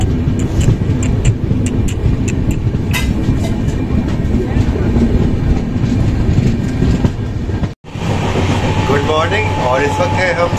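The Shramjeevi Express, running from Ghaziabad to Patna, heard from inside a 3rd AC coach: a loud steady rumble with rhythmic clickety-clack of wheels and air-conditioning hum, with a brief drop-out partway through.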